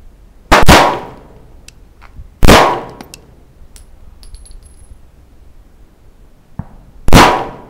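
Rifle shots at an outdoor rifle range, four sharp cracks spaced a couple of seconds apart, each loud and close with a short decaying echo, and faint small clicks between them.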